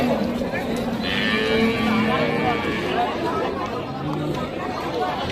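Sahiwal cattle at a busy livestock market in Dinajpur, Bangladesh, with occasional moos rising over a dense crowd babble and nearby chatter throughout.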